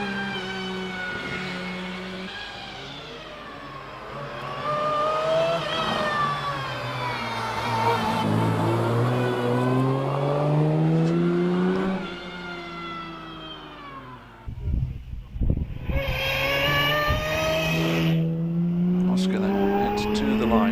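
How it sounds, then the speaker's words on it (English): A Jaguar E-Type V12 climbs the Prescott hillclimb course, its engine howling as it rises and falls through the gears. The sound is loud and close, with a sharp break and a rattle partway through before it pulls away again. "Out of Torres comes Oscar Harding in that lovely looking Jaguar E-Type, the V12 machine."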